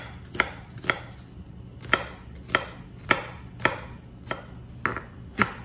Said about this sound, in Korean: 양파는 그냥 다져주세요